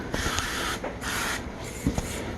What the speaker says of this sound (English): So I'm going to spray them down with some of this duck fat